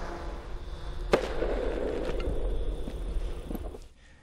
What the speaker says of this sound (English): Parachutes with an expelling charge.